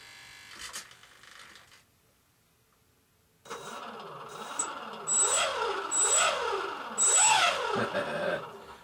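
Electric motor on a Cap 232 RC airplane spinning a small 9x4.7 sport prop, starting after a pause and then rising and falling in a repeated whining buzz that revs up several times, close and loud.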